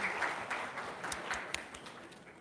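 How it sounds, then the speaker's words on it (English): Audience applauding a presenter at a rights and justice hackathon, a short burst of scattered clapping from a modest crowd, fairly distant and even throughout. "Can we please have a round of applause for him?"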